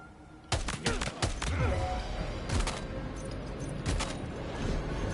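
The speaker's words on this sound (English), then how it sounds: "they'll hear the gunshots the minute I fire." Several sharp gunshots crack in quick bursts in Death Stranding 2, a cluster early then a few more spaced out, loud against a busy game background.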